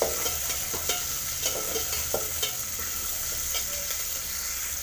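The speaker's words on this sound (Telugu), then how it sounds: "ఇట్లయితే కలుపుతున్నా అన్నీ వేసి" Onions and peanuts stirred and frying in a pan on the stove, a steady close sizzle broken by repeated scraping stir strokes across the whole stretch, with no talking.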